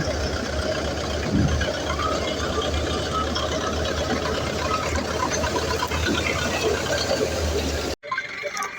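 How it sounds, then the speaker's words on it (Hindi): A diesel tractor engine runs roughly and unevenly, struggling to build power as if starved of fuel, a steady close mechanical drone that cuts off abruptly near the end. "मौसम नहीं बना पा रहा है ट्रैक्टर।"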